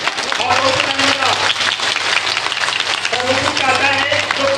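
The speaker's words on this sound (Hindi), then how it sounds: "तो जोरदार ताली बजाते हुए हम फादर को धन्यवाद देंगे।" Church congregation at an Easter service clapping loudly in thanks, a full, sustained wash of applause while voices carry through it, some singing-like tones rising over the clapping.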